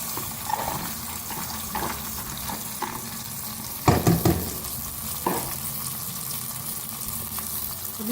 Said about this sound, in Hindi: अब इसको भूनेंगे मसाले के साथ अच्छी तरह से, मीडियम फ्लेम पे।